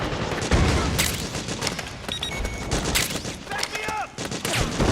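Dense gunfire in the video game Metal Gear Solid 4, with rapid automatic bursts and heavy booms in a chaotic battle, shouted voices over the shooting and scattered metallic pings and shell clinks.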